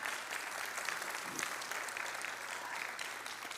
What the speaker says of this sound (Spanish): Regálame otro aplauso, por favor